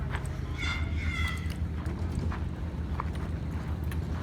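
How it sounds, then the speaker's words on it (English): Horses moving about an outdoor farm enclosure, their hoof clip-clop steady but faint under constant wind noise and low rumble. "Oh, here's the new horses."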